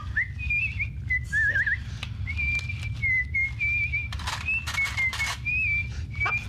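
A captain whistles a Snow White tune in a clear, wavering melodic line, with short pauses between phrases and scattered clicks and clatter underneath.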